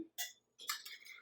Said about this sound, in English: I'm gonna whisk in the pumpkin